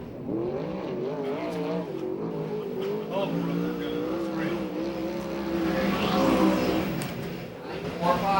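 USAC/CRA sprint car at Perris, California, running a qualifying lap at the Southern California Fair, its engine a steady, buzzing roar that swells as it nears, under continuous announcer talk.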